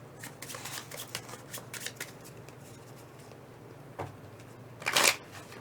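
A deck of cards is shuffled during a tabletop game of Root: close, quiet riffling bursts in the first two seconds, a soft tap, then a sharp, louder snap of cards near the end.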